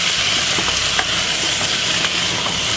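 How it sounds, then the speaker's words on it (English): Moroccan chicken with a can of chopped tomato gets stirred in a hot pan, a loud, steady hiss of sizzling with soft spoon scrapes and small pops scattered through, no talking. "Give it a little stir."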